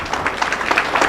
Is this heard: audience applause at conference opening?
yes